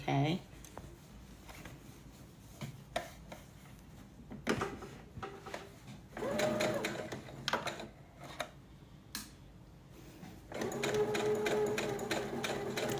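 A sewing machine stitches a tote bag in short bursts of rapid mechanical whirring, stopping and starting between pauses, with a person talking between runs.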